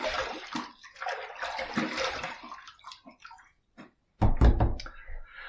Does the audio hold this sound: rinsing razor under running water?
yes